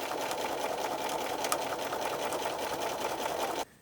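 A sewing machine runs a steady, fast stitch along the seam of a fabric tablet cover, loud and close, then stops abruptly near the end.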